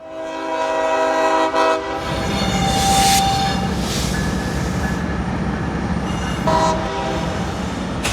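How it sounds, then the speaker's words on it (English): A train passes nearby with a loud horn blast, then a steady rumble and rattle of rail cars rolling by. "There goes another train."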